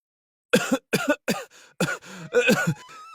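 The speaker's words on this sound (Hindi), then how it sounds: "मंत्री जी खांसने लगते हैं" A run of harsh, close coughs, about six bursts in quick succession with brief pauses, ending in a throaty rasp.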